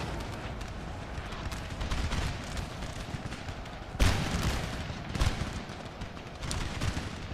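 Musket volleys crackle across a battlefield in Napoleon: Total War, dense distant rolling fire with a few louder booming volleys standing out, sustained and rumbling without speech.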